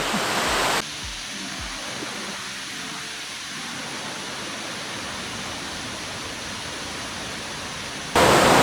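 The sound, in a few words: waterfall in Maligne Canyon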